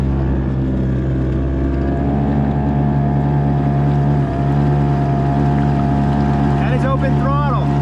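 A Hankai 2.6 outboard motor on a kayak runs at full throttle, a loud steady buzzing drone with strong harmonics, close and continuous, with wind and water noise and a person talking over it.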